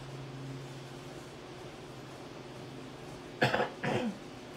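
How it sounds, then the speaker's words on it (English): A person coughs twice in quick succession, close and fairly loud, over a steady low hum of background noise during home gameplay of Fallout 76 on Xbox One. "Sorry about the cough, guys."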